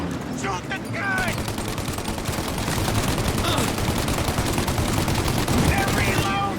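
Dense, continuous gunfire from a Mafia: Definitive Edition shootout, rapid overlapping shots and bursts running nearly unbroken throughout, loud and close, with a player's voice shouting over the firefight.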